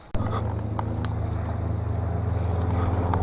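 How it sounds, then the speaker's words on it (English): Loud truck engines idling and rumbling nearby in a town, a steady heavy low drone that holds for several seconds after a sharp onset, with faint clinks on top. "some loud trucks over there in town"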